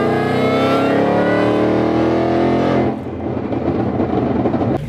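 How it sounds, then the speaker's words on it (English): Whipple-supercharged 800 hp Mustang revving, a loud rising supercharger whine with strong harmonic engine tones for about three seconds, then dropping off into a rougher, quieter idle rumble. "you can hear the air from the sound tube"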